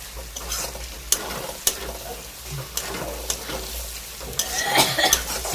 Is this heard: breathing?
no